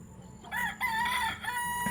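A rooster crows nearby, a single drawn-out call with a rising and falling pitch, over a steady low background hum.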